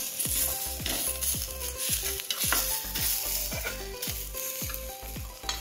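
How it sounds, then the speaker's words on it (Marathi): Onion frying in a pan on the stove, a dense continuous sizzle with a rapid repeating rhythm of scraping strokes as it is stirred, close and alone without any talk. "कांदा आता बऱ्यापैकी भाजला गेला आहे"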